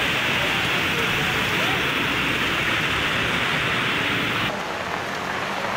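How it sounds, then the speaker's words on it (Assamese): Heavy rain pours down over Guwahati city, a loud dense hiss of rain on surfaces that holds steady and then drops slightly in level near the end, with no voices. "এজাক বৰষুণতে ডুবিছে গুৱাহাটী মহানগৰী"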